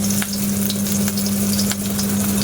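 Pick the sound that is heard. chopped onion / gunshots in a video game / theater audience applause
chopped onion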